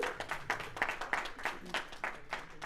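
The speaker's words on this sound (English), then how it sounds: "Let's have a big round of applause for them." Applause from a small Toastmasters club meeting audience, a modest scattering of hand claps with an uneven, pulsing rhythm, fairly quiet and close.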